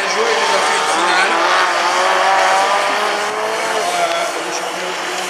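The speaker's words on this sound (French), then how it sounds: "Le freinage appuyé, Maximilien Hebdo" A Twingo race car brakes hard during a rallycross heat in Mayenne, its engine note sliding down in pitch with tire noise, loud and close for several seconds under an excited commentator.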